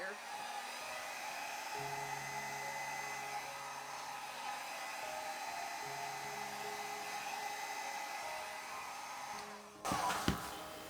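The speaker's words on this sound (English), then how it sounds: "I also used the blow dryer to kind of add a little bit of softness" A hair dryer blows steadily and continuously up close over fluid-art paint, a constant airy whoosh with faint tonal hum, ending with a brief clunk.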